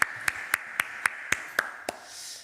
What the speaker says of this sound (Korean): 하나님 앞에 영광의 박수 드립니다